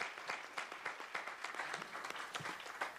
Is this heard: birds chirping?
no